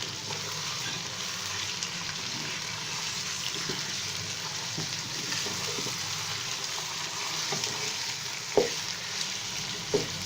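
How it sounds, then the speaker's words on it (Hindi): Chicken frying in a pan for pulao, a continuous close sizzle and crackle with occasional soft stirring knocks and a couple of sharper clinks near the end, no voices. "दो मिनट तक हम इसको इसी तरह से फ्राई करेंगे।"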